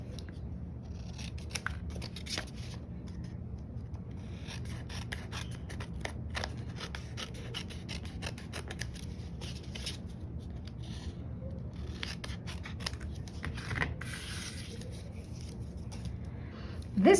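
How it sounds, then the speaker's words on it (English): Scissors snip steadily through card paper up close, trimming excess in a long run of quiet crisp cuts with light rustling between them. "use our scissors to trim the excess"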